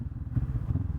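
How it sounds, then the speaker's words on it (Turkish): A Honda NX500 motorcycle engine runs steadily nearby with a low, throbbing rumble and slight clatter, no voices. "Evet motorun sesi"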